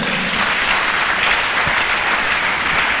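Church congregation applauding together, a steady dense wash of clapping that lasts throughout at fairly close range, with no talk over it.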